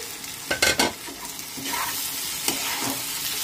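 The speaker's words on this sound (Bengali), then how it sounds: "মশলার সাথে আলুগুলো ভালো করে কষিয়ে নিলাম একটু।" Fried potatoes stirred and sautéed with spices for a prawn and banana-flower curry: a spatula scrapes and clatters a few times in quick bursts over a steady, close sizzle of frying, with no talk.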